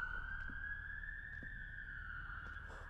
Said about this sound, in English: There's sirens in the distance.